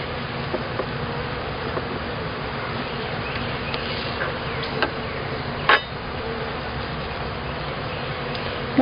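Honey bees buzz steadily on a hive frame during a hive inspection, a close, continuous hum with a few small knocks and clicks near the middle and end.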